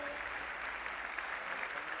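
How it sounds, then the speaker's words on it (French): Audience applause at an awards ceremony for a silver trophy, steady clapping from a hall of people, fairly soft and distant throughout. "Et bravo au trophée argent qu'on peut applaudir bien fort"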